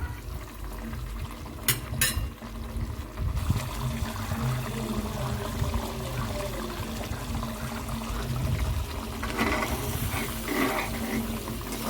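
Fish curry simmering in a pot while being stirred slowly, giving a continuous close bubbling and liquid churning with a couple of brief scraping clicks near the start.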